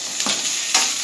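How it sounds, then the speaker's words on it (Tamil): Urad dal, chana dal, onion and green chili sautéing in a pan, a steady close sizzle with two brief stirring scrapes, for veg idiyappam. "உளுந்தம்பருப்பு, வெங்காயம் வதங்கிருச்சு. பச்சை மிளகாய்."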